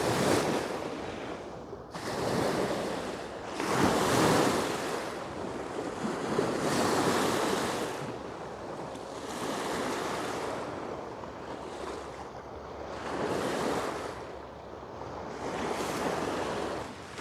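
Ocean waves roll in and break on a beach near Toronto, each surge rising and fading in a slow repeating rhythm of about five or six crashes, with wind noise brushing the microphone and no voices.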